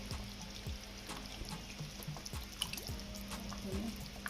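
Water rinses ingredients for Jamaican pumpkin soup, giving faint, scattered drips and trickles into a basin at close range.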